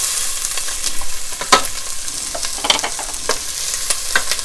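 Diced onions hit hot olive oil in a pan, giving a soft, steady sizzle broken by sharp clicks and scrapes of stirring, close and moderately quiet with no talk.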